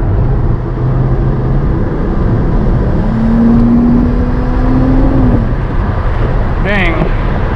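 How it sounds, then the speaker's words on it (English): Engine of a 2013 Nissan Maxima SV while downshifting to fifth gear on the road, a loud steady drone with a long rising tone under constant road and wind noise, and brief speech near the end. "So I'll downshift to fifth."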